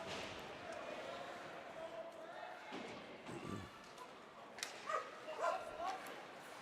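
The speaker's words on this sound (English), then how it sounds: "We get the Clarkson puppy and Army puppy here having a battle out in the stands." Dogs bark and yip in the stands during an Army vs Clarkson college hockey playoff championship game, a few sharp distant barks over steady arena crowd noise and play-by-play commentary.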